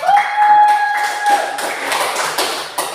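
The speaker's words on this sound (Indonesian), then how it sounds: "Tepuk tangan dulu yang meriah." Students in a classroom clap together, loud close hand claps starting with a sharp sustained tone underneath, then settling into an uneven run of claps that fades toward the end.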